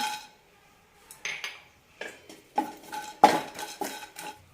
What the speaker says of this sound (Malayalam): പാൻ ചൂടായിട്ടുണ്ട് മൂന്ന് ടേബിൾ സ്പൂൺ പട്ട ഇട്ട് കൊടുക്കാം